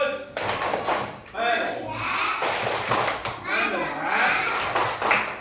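Primary schoolchildren in a classroom clap in rhythmic groups of a class clapping routine, with sharp bursts of hand claps and thuds mixed with their chanting voices.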